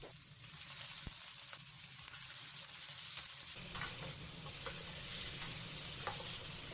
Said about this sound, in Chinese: 把它们都炒出香味儿。